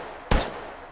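A single loud pistol gunshot from a video game fires at normal loudness: one sharp, close crack with a short decaying tail. It stands alone, with no talking.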